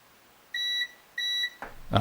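Two steady electronic beeps from a multimeter in continuity mode, each about half a second long, sound while probing a replaced thermal fuse in a Hot Tools HT710 flat iron. A clatter of handling noise follows the beeps.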